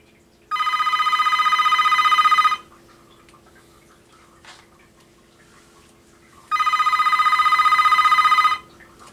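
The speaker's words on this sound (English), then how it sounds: "It's got a decent ring to it." A vintage Panasonic KX-TS25-W landline telephone rings loudly up close in two electronic bursts about two seconds long, separated by a quiet pause.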